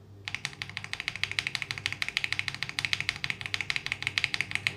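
Fast, steady typing on a mechanical keyboard fitted with Akko Lavender tactile switches, a dense run of crisp, close key clacks at an even rhythm, with no voices.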